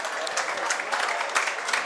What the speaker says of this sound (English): The applause is for Harry Kidd, who makes his way off